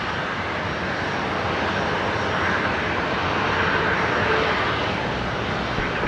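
A Fiji airliner's jet engines on runway 19 left at Brisbane Airport, a loud, steady broadband roar that holds without letup.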